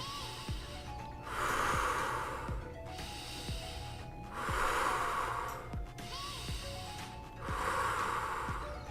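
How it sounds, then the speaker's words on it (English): Slow, deep breaths in and out repeat in a steady cycle, each long hissing exhale close to the microphone during a home karate lesson, with faint background sound between breaths. "Last breath in, out."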